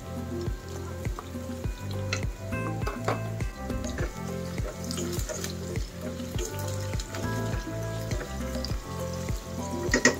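Garlic and tomatoes sautéing in a pan, a steady soft sizzle and crackle with a faint repeating background pulse, fairly quiet and without talk.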